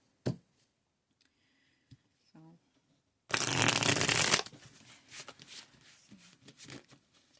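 Tarot and oracle decks, an Intuitive Tarot and an Earth Magic Oracle, shuffled by hand: a few soft card taps, then a dense riffling burst of about a second, trailing into lighter shuffling and brushing.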